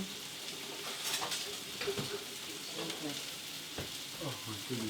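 Chicken meatball skewers frying in a pan, a continuous sizzle broken by scraping and clacks as tongs flip them, with some faint background voice.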